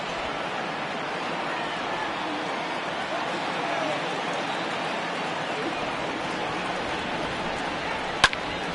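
Heavy rain falls during a ballpark game in MLB The Show 2020, a steady broadband hiss that goes on the whole time with no let-up, and one sharp click near the end.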